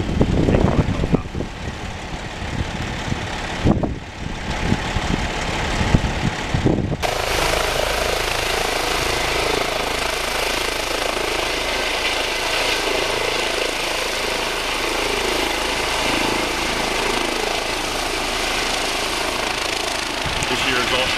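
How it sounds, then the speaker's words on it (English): A medical evacuation helicopter carrying a heart patient, its engine and rotor producing a loud steady roar that holds close and constant for most of the stretch, after a few seconds of wind-buffeted noise and voices. "the fastest way down there is for them to take on a helicopter."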